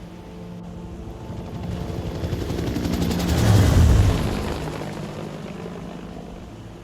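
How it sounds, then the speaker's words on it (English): A helicopter in a film scene crosses over a river, its thudding rotor growing steadily louder as it approaches, peaking overhead, then fading away again, with no voices heard. "The helicopter soars across the river."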